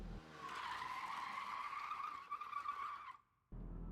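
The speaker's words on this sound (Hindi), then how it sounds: "गाड़ी के ब्रेक लगने की आवाज़ आई।" Car brakes screech and tires skid on a road at night, a loud, sustained squeal of a few seconds that cuts off abruptly, followed by a short silence and then a low rumble.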